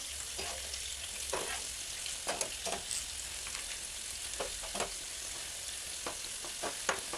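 Bitter gourd pieces fry in oil in a pan, a constant bright sizzle with scattered scraping knocks as the pieces are stirred and flipped over, close and without any voices.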